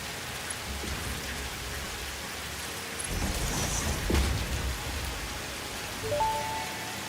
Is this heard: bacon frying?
no